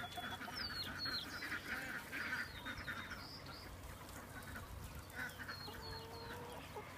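Free range chickens on a pasture farm squabbling over a piece of greenery: faint clucks, squawks and honk-like calls over a soft outdoor background, with no voices.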